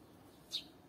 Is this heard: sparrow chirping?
yes